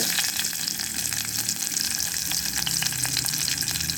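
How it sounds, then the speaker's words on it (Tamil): Spices, with garlic added, frying in oil inside a pressure cooker for Tamil manathakkali kuzhambu, a continuous close crackling sizzle with no talk. "நல்லா பொரியட்டும்"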